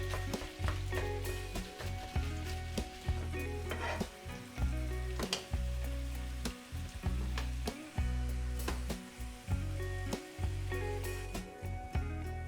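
Venison mince frying in olive oil for Cholula taco seasoning sizzles loudly and steadily up close, broken by repeated sharp scrapes and stirring knocks of a utensil against the pan.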